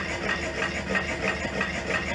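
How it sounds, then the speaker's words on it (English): A Stirling engine drives a 7 GPM water pump, making a steady, continuous mechanical hum with a faint regular pulsing beat, heard up close and alone without voices. "One more thing I wanted to do was to see how noisy the engine is."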